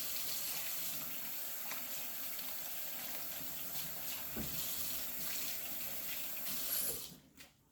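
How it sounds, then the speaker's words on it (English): Kitchen tap running steadily as hands are washed underneath, a close, even hiss of water with small splashes, ending abruptly when the flow stops. "wash those hands"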